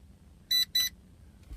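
A Metakoo Q323 quadcopter's handheld controller gives two short, high-pitched electronic beeps in quick succession, close and clear over a quiet background.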